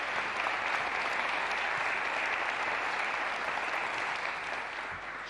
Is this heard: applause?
yes